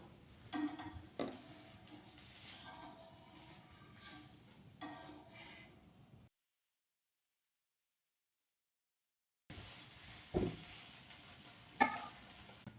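Adai dosa cooking in oil on a pan, a faint low sizzle with a few soft utensil taps, interrupted by a stretch of complete silence midway before the quiet frying resumes.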